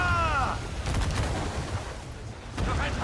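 Ship cannon fire in the naval combat of the video game Assassin's Creed 4: Black Flag, a few booming shots over continuous battle noise and sea rumble, with someone talking over the action.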